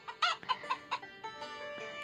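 Chicken in a farming video game clucking in a quick series of short, sharp notes, about five clucks in the first second, then a quieter tail under faint game ambience.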